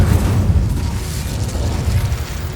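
A deep rumbling roar of the Incendio fire spell in Hogwarts Legacy, loud and sustained with a heavy low-end whoosh that pulses slightly before tapering off.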